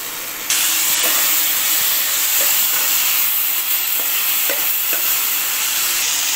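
Schezwan chutney masala frying in a pan, a loud steady sizzle and hiss close up, with faint scrapes of stirring every second or so and no talking.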